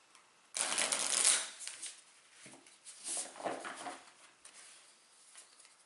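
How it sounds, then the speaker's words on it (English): A deck of 70 cards for the Legendary Buffy the Vampire Slayer deck-building game is riffle-shuffled up close, with a loud rapid burst of flicking cards followed by several softer, shorter shuffles and no voices. "hopefully I've shuffled this sufficiently"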